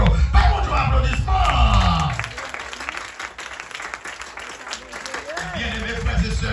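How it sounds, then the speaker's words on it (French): A church congregation breaks into loud applause and cheering partway through a sermon, the clapping dense at first, then easing off before rising again. Voices carry throughout. "applaudissement"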